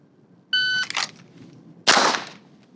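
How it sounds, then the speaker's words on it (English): A handgun drawn from an outside-the-waistband holster fires after a shot-timer beep, two loud sharp close reports about a second apart. "make sure I can press the trigger without disturbing them"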